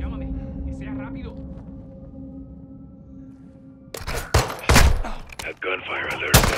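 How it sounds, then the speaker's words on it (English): A sudden burst of rapid gunfire erupts in Call of Duty: Modern Warfare 2 after a quiet stretch of low ambient hum, with sharp, loud cracks continuing in bursts. "That gunfire alerted him."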